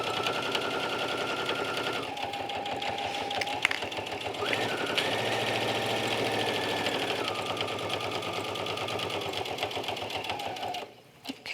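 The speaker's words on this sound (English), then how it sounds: "this fabric really just moves through the machine like butter" A sewing machine top stitches cork fabric with metallic thread, its motor whirring steadily and close for about ten seconds before stopping abruptly near the end.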